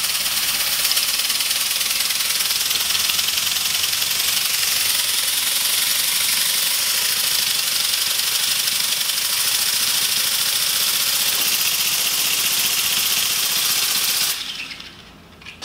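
A small compressed-air engine test-runs at 50 PSI, a loud, fast, continuous rattling chatter with a strong airy hiss that holds steady for about fourteen seconds before stopping, with no talk.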